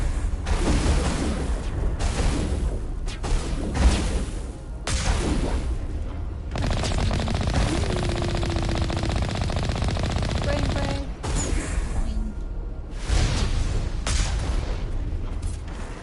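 Enemy gunfire in the video game Mass Effect: loud sustained automatic bursts, rattling fire broken by short gaps and heavy booming impacts, with a player talking over parts of it.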